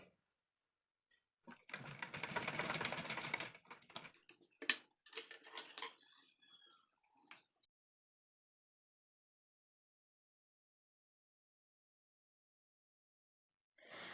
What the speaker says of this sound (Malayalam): ഇങ്ങനെ പിടിച്ചിട്ട് വേണം സ്റ്റിച്ച് ചെയ്യാനായിട്ട്.